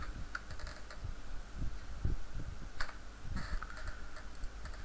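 Keys tapped on a computer keyboard in irregular bursts of close, crisp clicks, heard alone at moderate volume during work on a quiz game in ActionScript 3.0.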